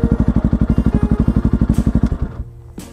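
Kawasaki-Bajaj Rouser NS160 fitted with an Akrapovic exhaust idling close by, a loud steady rapid pulsing throb that drops away and fades near the end as the engine is shut off.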